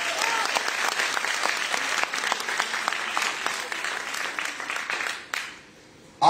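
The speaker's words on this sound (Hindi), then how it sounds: "एक बार तालियां होनी चाहिए गोवा अच्छी वर्ष के लिए।" Audience at a Women's Day celebration in Goa claps steadily and densely for about five seconds, then the applause drops off sharply near the end.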